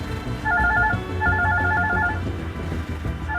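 A telephone rings with an incoming call while people sit in a drive-thru, giving two loud bursts of a warbling electronic ringtone close by over low background rumble.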